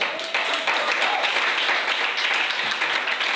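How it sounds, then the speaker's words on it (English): Sustained applause from an audience at a G-Sport Hall of Fame ceremony honouring South African sportswomen, a dense steady wash of clapping with some voices mixed in. "everyone can give you a rousing applause"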